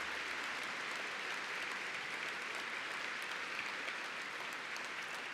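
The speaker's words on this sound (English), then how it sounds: "Let's have a big round of applause for all of those people." Big, steady round of applause from an audience at a charity breakfast event, dense clapping sustained evenly throughout without talk.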